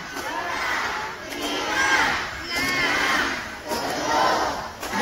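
A crowd at a dolphin show at Ocean Dream Ancol in Jakarta counts aloud in unison. Loud, rhythmic group shouts rise and fall about every second.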